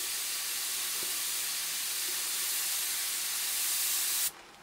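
A Badger airbrush fitted with a super fine needle hisses out paint in a steady, even spray for several seconds, close and continuous, then cuts off abruptly at the end.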